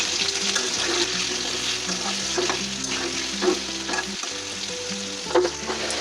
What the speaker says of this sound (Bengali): আমরা প্রথম আলুগুলি ভাজবো